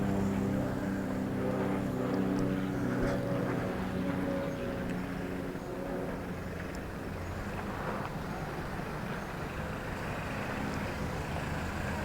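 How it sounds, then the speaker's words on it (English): A propeller or jet airplane passes overhead outside a street in Bangkok, heard as a steady broad low rumble that sits loud and constant throughout, slightly fading toward the end, with traffic-like noise beneath. "An airplane going over."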